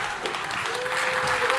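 Crowd applause at a political rally in Sandown, New Hampshire, a steady dense wash of clapping from a large audience, with a faint sustained tone running beneath it.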